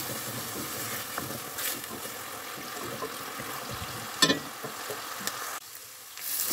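Chopped onion sizzles steadily while frying in a pan, with a spoon stirring and scraping through it in occasional clinks, the crackle loud and close before easing slightly near the end.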